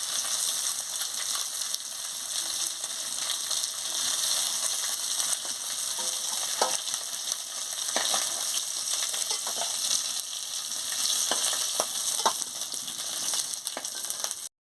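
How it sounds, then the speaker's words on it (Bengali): Dried red chillies and panch phoron sizzle and crackle steadily in hot oil in a pan, with occasional sharper pops and stirring scrapes throughout. "শুকনো লঙ্কা দিয়ে দিচ্ছি পাঁচ ফোড়ন দিয়ে দিচ্ছি"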